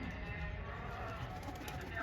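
A young reddish pigeon, just caught and held in hand, gives a faint, low cooing close by against a steady wash of background noise.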